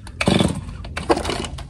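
A chainsaw being pull-started in a garage, with two short bursts of rough engine sputter separated by a brief pause, close and fairly loud, and no idle settling in.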